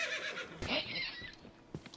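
A zombie or skeleton horse in Minecraft gives a short, shrill whinny after some soft shuffling, followed by a couple of faint hoof-like thuds.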